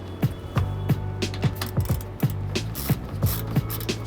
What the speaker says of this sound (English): Next, we're going to remove 5 7mm bolts securing the bumper to the fender.